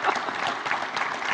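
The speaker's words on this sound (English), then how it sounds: "You can clap for them." Brief burst of steady audience clapping at a conservative political panel event, moderately loud and continuous throughout.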